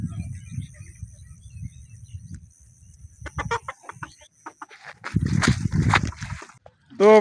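Chickens foraging for grass beside a farmer's rain-flooded vegetable field give off intermittent, fairly close clucks in short bursts, with a sharper, louder call right at the end.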